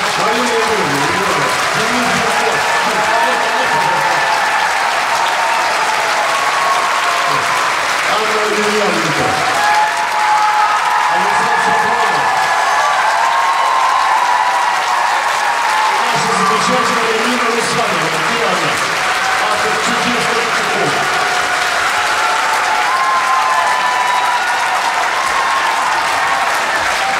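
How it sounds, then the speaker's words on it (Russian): Sustained concert audience applause fills a large hall after an Ensemble Loktev performance at the Moscow International House of Music, loud and continuous throughout, with brief voices heard beneath the clapping. "получили вот ваши еще заслуженные аплодисменты"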